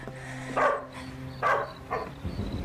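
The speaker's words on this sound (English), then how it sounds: "Belinda, that's a dog barking." A dog barks outside a home in a crime drama: three or four sharp barks spaced about half a second to a second apart, moderately distant, with no talking over them.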